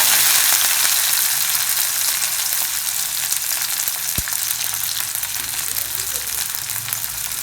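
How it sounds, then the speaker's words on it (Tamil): Small garlic cloves fry in hot oil in a pan for a coconut coriander chutney, giving a dense, even hiss that carries on with little change and one sharp click near the middle. "சின்ன பூண்டு அதையும் போட்டுக்கோங்க போட்டு வதக்கிக்கலாம்"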